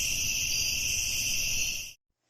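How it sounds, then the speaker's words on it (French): Cicadas buzz loudly in a continuous, high, steady drone that holds for about two seconds and then stops abruptly into silence. "Des cigales étaient trop forts."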